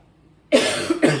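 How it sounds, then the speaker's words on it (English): Two harsh coughs close to the mic after a brief quiet moment, the first longer and the second a short follow-up burst. "the onion's making me cough"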